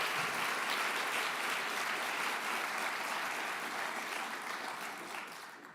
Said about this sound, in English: please join me for a round of applause for Cairo